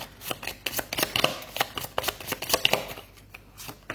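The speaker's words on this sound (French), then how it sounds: "on va les remélanger pour voir où est-ce que vous tombez au milieu de toutes ces cartes" A deck of cards being shuffled for a card reading, a rapid series of close riffling and snapping bursts in quick uneven rhythm, with no voices.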